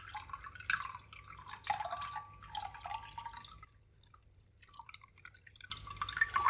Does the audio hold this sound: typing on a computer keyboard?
no